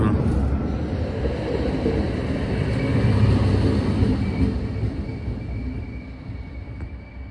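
Hungarian BZ diesel railcar rattling slowly along a branch line, a steady close rumble and clatter of wheels on track, continuous with no clear talk.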